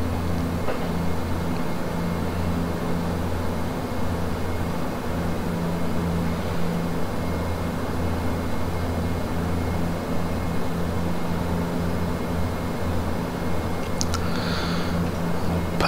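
Dash 8 Q400 turboprop engines in the Prepar3D flight simulator throttling up, a steady loud droning hum with constant tonal layers throughout, no voices.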